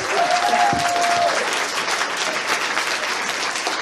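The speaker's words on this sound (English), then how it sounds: "Give them a round of applause." Audience applause at a furry convention improv show, dense steady clapping filling the room for a few seconds without a break.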